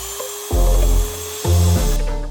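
A Dremel rotary tool cuts into a generator outlet cover, two loud close bursts of high-pitched whining grind, each about a second long, separated by a short pause with motor hum.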